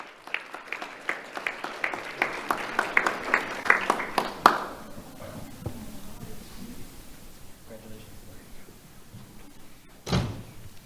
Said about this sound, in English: Let's have a round of applause for Jeriah St.